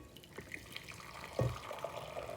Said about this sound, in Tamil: இதை போல் தண்ணியை கம்ப்ளீட்டாக வடிச்சிட்டு